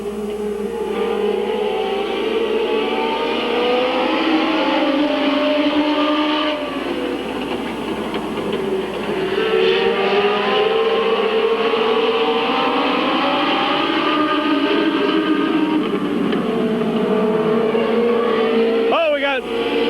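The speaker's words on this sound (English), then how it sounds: "Bill Richards showing the way in car 1" Race cars lapping Midvale Speedway in 1999, a loud continuous snarl of several engines rising and falling as they pass, with a commentator talking over the racing.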